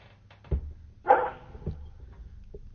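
A dog gives a few short barks, one sharper yelp in the middle, fairly faint and somewhat distant in a quiet space.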